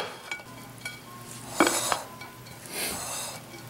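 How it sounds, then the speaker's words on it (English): Warm pasta being mixed with cheese and thawed chopped spinach in a bowl for mac and cheese, giving soft scraping and a few clinks of a utensil against the dish, close and without talking. "Now we're gonna mix up the warm pasta with the cheese and the spinach."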